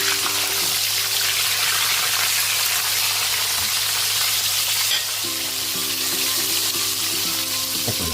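Tilapia frying in hot oil with a piece of garlic, a loud, steady sizzle and crackle that keeps going without a break, with a faint background hum and no voices.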